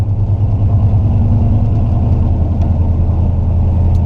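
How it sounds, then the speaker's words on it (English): A car with a three-on-the-tree column shifter downshifting and rev matching: steady low engine drone close inside the cabin, with a mild rise in revs and no talk. "So I'm going to downshift, give it a little bit of gas so I can rev match a little bit."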